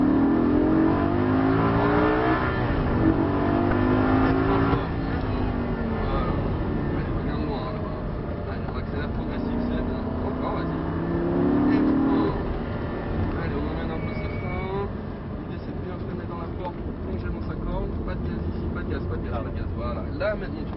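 A Lamborghini on a race track during a driving course accelerates hard with a rising engine roar. Someone talks over the engine noise from inside the car.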